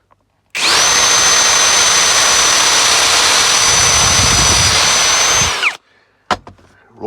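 A power drill bores a hole into centre-punched metal, a loud, steady high whine held for about five seconds close up, then cutting off abruptly and followed by a couple of clatters.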